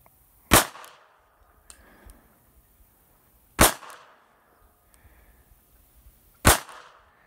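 A Taurus PT732 .32 ACP pistol fired one-handed, three loud, sharp single shots about three seconds apart, each followed by a short echo tail and quiet pauses.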